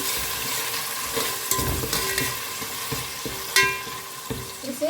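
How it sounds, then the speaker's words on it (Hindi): A ground paste of coriander, mint, chilli, garlic and ginger fries in a pan with a continuous close sizzle, broken by irregular stirring scrapes and a few sharper clinks. "तो अब इसे ना 1-2 मिनट से ना हमें इसे अच्छे से फ्राई करना है।"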